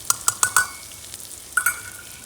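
Chillies sizzle in hot tempering oil with a splash of water, broken by a quick run of four sharp spoon strokes, a pause, then two more, all close and with no voices.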